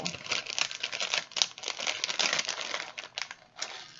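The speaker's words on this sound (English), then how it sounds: "rip the bag open" A plastic gummy bag is ripped open close up, with continuous crinkling and tearing that crackles in quick irregular bursts, without talk.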